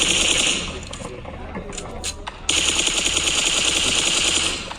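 Rapid automatic gunfire from a mobile shooting game, played with a four-finger gyroscope control setup, rattles in fast bursts, pausing briefly in the middle before resuming loud and sustained.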